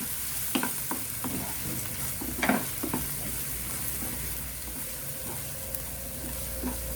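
Ginger and garlic fry in a pan with a constant sizzling hiss, punctuated early on by several sharp spoon scrapes and clicks that ease off into a steady sizzle.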